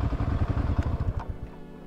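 A KTM 690 Enduro motorcycle fitted with 13/48 gearing rides up a steep 32% grade, its engine chugging in a close, rhythmic pulse that eases off slightly toward the end.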